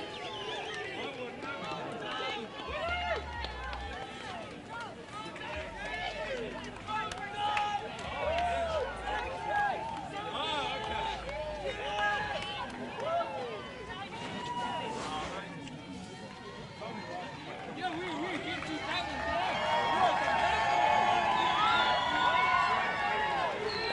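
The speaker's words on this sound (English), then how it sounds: "the crowd is starting to really cheer now as they see Peter Burling holding the America's Cup" A large outdoor crowd at an America's Cup victory parade in Christchurch cheers and chatters continuously, swelling louder toward the end, with people talking nearby throughout.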